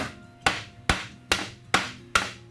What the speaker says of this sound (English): I usually hammer each thread about 20 times to fit them snugly.